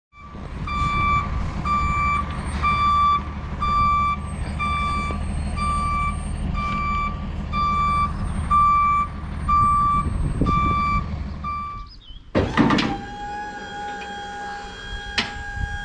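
A white box truck making a delivery sounds a steady series of loud, evenly spaced reversing beeps over a low engine rumble, then the beeping stops and a clunk and shifting noises follow.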